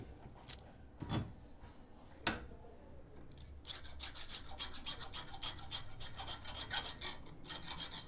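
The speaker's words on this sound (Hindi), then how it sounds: "इसको पकड़ कर रगड़ लेते हैं बराबर उसके" Metal bush being rubbed flat by hand against an abrasive surface during an air gun barrel stopper repair, with a few sharp knocks early on, then a steady close rasping scrape that continues to the end with no talking.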